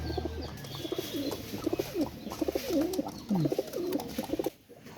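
Aliwala pigeons coo repeatedly in soft, rhythmic phrases, close by and steady, with a faint chirp in the background and no talking.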